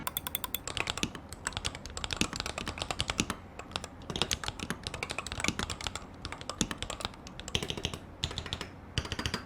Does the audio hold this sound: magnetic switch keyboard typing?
yes